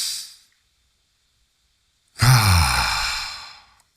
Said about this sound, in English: I'm going to invite us to take a deep breath for ourselves